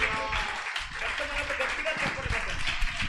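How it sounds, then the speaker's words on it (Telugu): Church congregation at a fasting prayer service clapping loudly together, a continuous dense patter of many hands, with a voice talking over it. "గట్టిగా చప్పట్లు."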